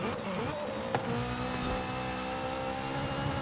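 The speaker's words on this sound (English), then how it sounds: "I do like the sound of the gear changes" A racing car engine in the video game Forza Horizon 5 whines and revs steadily with a sharp gear shift partway through, a continuous mechanical drone with a high gear whine above it.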